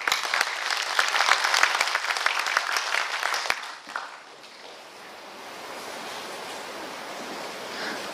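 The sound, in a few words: audience applause welcoming a speaker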